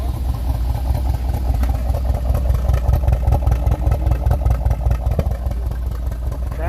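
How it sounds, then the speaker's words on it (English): A V6 car engine with a carburetor runs steadily after being started, a rough, throbbing idle with slight pulsing revs, close and fairly loud throughout. "It sounds like it's got a V8 in it. V6. V6. Yeah. Wow. You got it started."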